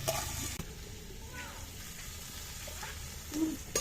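Water is poured into a pan of frying potato and pumpkin curry, giving a soft sizzling and splashing hiss with a few clinks and faint kitchen noise.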